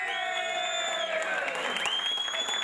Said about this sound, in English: We're all clapping.